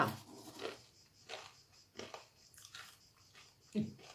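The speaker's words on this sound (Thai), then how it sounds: "มันจะกรอบมากนะคะ กรอบแบบที่ว่า เราไม่ต้องไปทำอะไรเลย กินแบบเปล่า ๆ อย่างนี้ก็ได้นะคะ" Plain crispy deep-fried pasta being bitten and chewed up close, with several distinct crunches spaced out, each followed by softer crackling mastication, and no talking.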